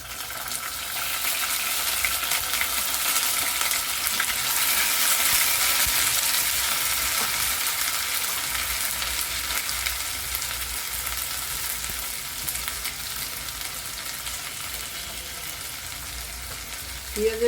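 Onion paste fries in a pan for a country-chicken egg korma, a dense continuous sizzle close up that holds steady throughout, with a faint clink at the very end and no voices.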